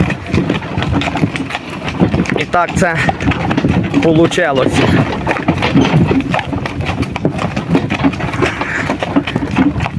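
Hooves of a harnessed stallion and mare working together as a pair clip-clop in a steady rhythm close by, with engine-like rumble beneath and someone talking over the hoofbeats.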